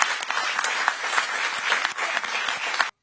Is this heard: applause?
yes